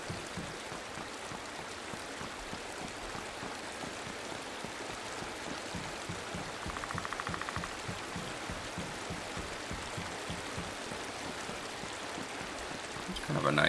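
Steady river water flowing and trickling continuously in an outdoor woodland setting, a soft even rush heard close by and alone for the whole stretch, with a brief small disturbance near the end.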